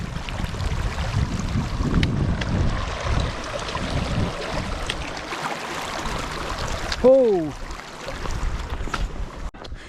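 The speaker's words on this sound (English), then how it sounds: "This is a very long creek crossing." Water rushes and splashes continuously as someone wades across a long creek crossing in the Sierra Nevada mountains, with a brief voice exclamation and a short whistling sweep near the end.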